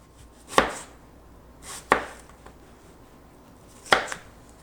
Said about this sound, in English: Next, I'm going to chop my onion.